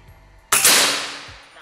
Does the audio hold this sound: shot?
yes